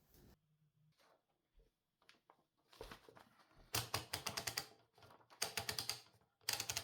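Line adjuster on a 1920 Typo model B typewriter being worked: close, crisp mechanical clicks and ratcheting bursts in irregular clusters, growing denser and louder toward the end, with no talk.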